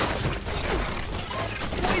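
Explosions and crashing blasts in the survival video game Grounded during a fight with a wasp queen, a dense, loud burst of booming and crackling impacts running the whole two seconds with no pause.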